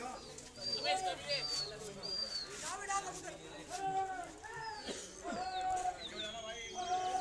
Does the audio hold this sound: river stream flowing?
no